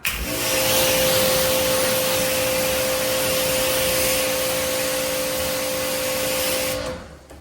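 A loud, steady hiss of a pressure washer rinsing a car runs continuously under a machine hum, close by, then cuts off abruptly near the end.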